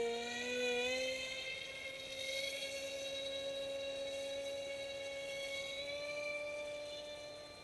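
A J-20 model jet's engine at full thrust gives a steady, distant whining whir with high tonal harmonics that drift slightly in pitch, faint and continuous without talk.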